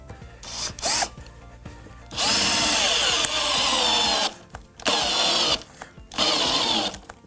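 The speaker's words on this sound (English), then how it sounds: "hopefully these should drill right the way down through the clearance hole and grab that timber below" A power drill drives screws through clearance holes into pallet timber in several loud bursts, whining as it spins up and stopping between each screw.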